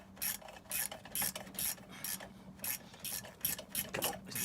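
A ratchet tightens wheel bolts on the rear brakes of a Mercedes A207 E-Class, giving repeated bursts of raspy clicking in an uneven rhythm, close and moderately loud with no talk.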